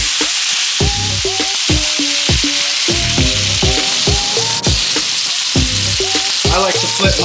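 A steak sizzles in a hot frying pan, a steady bright hiss running the whole time beneath loud, rhythmic background music.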